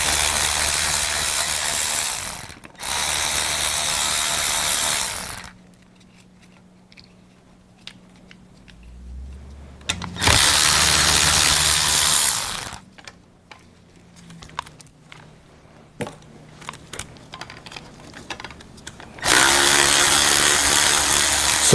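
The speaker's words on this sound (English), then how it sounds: "So I'm undoing all the screws that hold the fuel filter on the intake manifold." A power tool runs in loud bursts as it undoes the screws holding the fuel filter onto the intake manifold of a Mercedes Sprinter van, with quieter clicks and handling noises between the runs.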